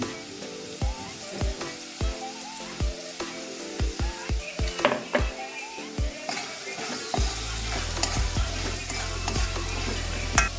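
Rice frying in a pan with cumin water, meat masala and salt, crackling and sizzling steadily with sharp stirring clicks and scrapes, turning into a louder, denser hiss near the end.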